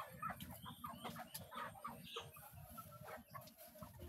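Bisaya chickens mixed with Rhode Island hens cluck softly and steadily in a backyard coop, faint overlapping calls in a quiet setting.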